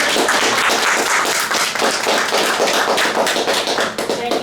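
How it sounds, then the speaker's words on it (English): An audience breaks into dense, steady applause to welcome a guest speaker, many hands clapping loudly and continuously with no voices on top. "Let's give her a hand of applause."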